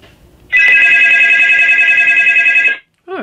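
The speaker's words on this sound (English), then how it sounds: "Oh, I got a phone call." A telephone rings loudly and close in one sustained electronic trill lasting about two seconds, then cuts off and is followed by a brief falling tone.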